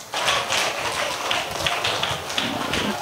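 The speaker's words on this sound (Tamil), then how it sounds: "நல்லா ஜோரா கை தட்டுங்க." Children at a church vacation Bible school session clap their hands together in a dense, lively patter of overlapping claps that keeps going steadily for a few seconds.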